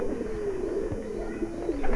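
A high flyer pigeon coos in a low, continuous rolling murmur nearby, with faint rustling and background noise.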